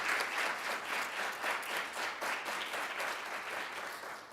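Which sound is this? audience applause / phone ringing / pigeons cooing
audience applause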